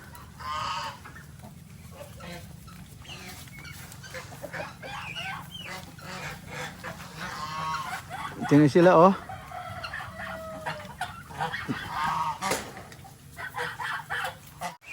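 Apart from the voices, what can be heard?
chickens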